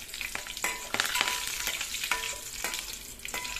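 Curry leaves crackle and spit in hot oil, with a steady close sizzle broken by sharp popping bursts throughout and no voices.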